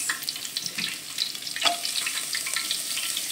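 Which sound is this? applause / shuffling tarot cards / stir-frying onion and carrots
stir-frying onion and carrots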